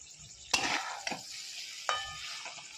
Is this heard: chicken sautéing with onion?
yes